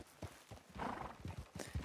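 A horse in the Red Dead game, hooves clip-clopping in a quick uneven rhythm, with a short whinny partway through, close and fairly loud.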